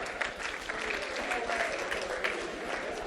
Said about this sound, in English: Big round of applause for Katrina's team